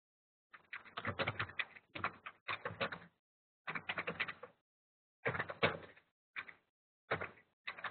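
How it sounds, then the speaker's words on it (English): Quick typing on a computer keyboard, close and clear, coming in short bursts of rapid clicking separated by brief pauses, with no voices. "I'm going to just type her a little quick message."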